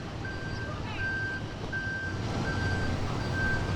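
A fire truck on 30th Avenue in Astoria, Queens gives a steady run of evenly spaced reversing beeps over a busy street with traffic rumble, heard at a moderate distance.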